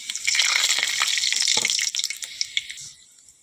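Whole spices (five-spice phoron) and dried chilli tempering in hot oil for bottle gourd with prawns, giving a close, steady crackling sizzle with scattered pops that thins out near the end.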